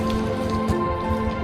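Rain falls in a TV drama scene, a steady soft patter of drops on surfaces with a faint tonal hum beneath, continuous and even throughout.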